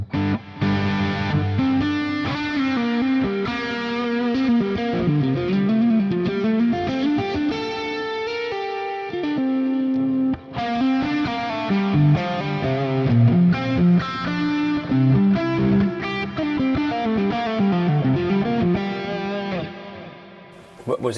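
Overdriven electric guitar through a Fractal FM3 plays a riff with echoing digital stereo delay and a wide plate reverb tail, pausing briefly midway before continuing.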